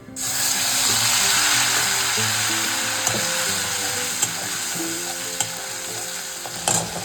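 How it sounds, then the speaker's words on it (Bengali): Steady, loud sizzle of asafoetida frying in a hot wok fills the whole stretch, with a few sharp clinks of a utensil against the pan near the end. "এটাকে একটু ভেজে নিয়ে তারপরে কড়াইশুটিটা দেবো"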